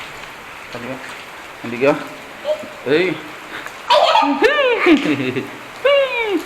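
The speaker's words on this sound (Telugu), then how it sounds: "మామూలు వర్షం పడుతుంది ఇప్పుడు." Steady ordinary rain hisses evenly in the background, continuous and moderate, while a person talks over it throughout.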